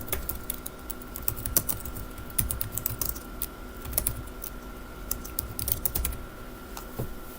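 A folder name being typed on a computer keyboard, a close, quiet run of quick key clicks in uneven bursts over a faint steady hum, with no talking.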